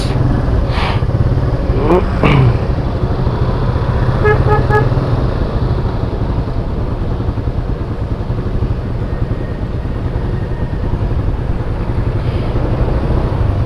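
Dense Philippine road traffic rolls past steadily, with a car horn tooting a few times early on over the continuous engine rumble, near and fairly loud.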